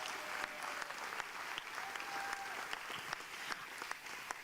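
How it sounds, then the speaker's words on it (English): Steady applause from a hall of fame induction ceremony audience, a continuous patter of many hands clapping, heard from some distance. "one more big round of applause for Dan Gustin"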